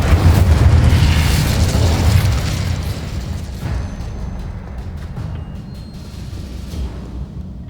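A fiery Incendio spell burst in the video game Hogwarts Legacy, a loud booming whoosh at the start that fades into a rumbling, crackling tail with a few faint clicks, with no speech.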